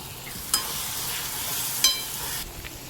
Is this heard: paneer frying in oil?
yes